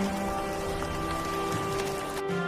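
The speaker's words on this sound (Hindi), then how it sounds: "कुछ दिन के बाद मानसून आया और बारिश होने लगी" Steady monsoon rain pours down with a dense, continuous hiss of drops hitting surfaces, even and unbroken throughout with no voices.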